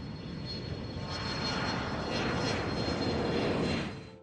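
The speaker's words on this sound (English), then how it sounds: "The P-38's twin engines created a unique acoustic nightmare." Steady, loud drone of a P-38 Lightning's twin aircraft engines with counter-rotating propellers, a broad roar swelling slightly midway and holding through to a brief fade at the end, with no voices.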